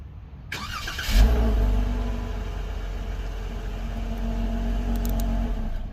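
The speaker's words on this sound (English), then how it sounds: "let's go back and see what this Jeep Wrangler Rubicon really sounds like" A 2021 Jeep Wrangler Rubicon's 3.6 liter V6 engine starts by remote and settles into a steady, low, moderately quiet idle rumble heard from nearby.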